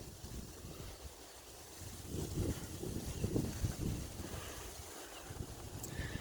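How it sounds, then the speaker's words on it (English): Wind at a park on the site of a former rock quarry, a low, uneven buffeting rumble across the microphone that swells in the middle and eases again, with no talking. "The wind may be a little bad"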